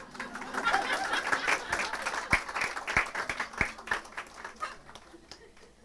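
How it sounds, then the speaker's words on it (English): An audience at a lecture on homeopathy claps for several seconds. The applause swells briefly, then thins to scattered, uneven claps with a few sharp individual hand claps standing out before it fades. "Normally at this stage people give applause."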